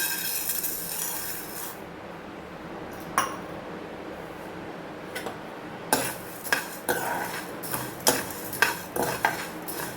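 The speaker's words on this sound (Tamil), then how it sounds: "தோரம் பருப்பு வந்து நான் ஒரு கிளாஸ் எடுத்திருக்கேன் இது கிட்டத்தட்ட வந்து ஒரு ஹண்ட்ரட் கிராம்ஸ் இருக்கும் ஸோ இதையும் நம்ம வறுத்துக்கலாம்" Toor dal dry-roasting in a pan with a faint steady rustle, then a run of sharp spoon-on-pan clinks and scrapes as it is stirred, the clatter growing busier toward the end.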